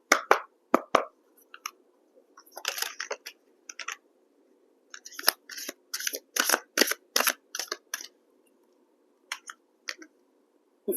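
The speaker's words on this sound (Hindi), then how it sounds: "once again I'll shuffle" Tarot cards being shuffled in a quiet room, a run of crisp card clicks and riffles in short bursts with pauses between them, close and fairly soft, with no talking.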